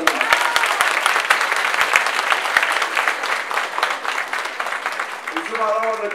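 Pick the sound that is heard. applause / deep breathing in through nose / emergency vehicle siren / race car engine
applause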